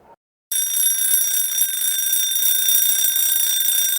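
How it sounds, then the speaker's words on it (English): A loud alarm clock rings with a shrill, continuous electronic tone that starts abruptly after a brief pause and holds steady throughout. "That night, as the city slept, at exactly 12 a.m., the alarm rang."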